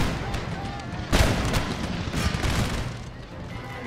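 Artillery fire in Empire: Total War during a siege at Satara, a heavy cannon blast with rolling gunfire and rumble, under a voice.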